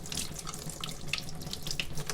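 Hot water runs steadily from a tap while a paint brush is washed with brush soap, a close continuous splashing stream with small bright spatters and drips.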